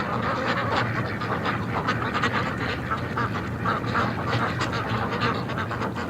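Ducks quacking steadily near water as they head in for a swim, a dense, continuous chorus of calls with splashy background texture, fairly close and moderately loud, no talking.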